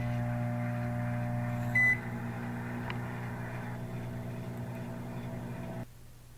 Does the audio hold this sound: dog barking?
no